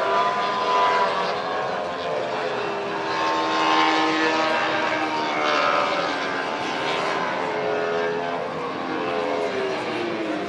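MotoGP racing motorcycles during qualifying at Austin's Turn 15 produce a loud, continuous engine roar with shifting pitch as bikes pass, filling the whole stretch at steady volume.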